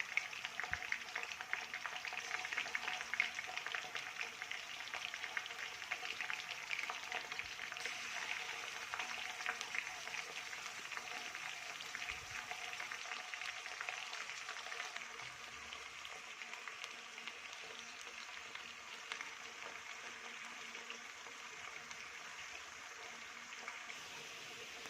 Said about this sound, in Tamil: 2 பக்கமும் நல்லா ஃப்ரை பண்ணுங்க.